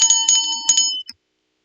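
A small handheld bell is rung several times in quick bursts, bright and close, with a last short ding before silence.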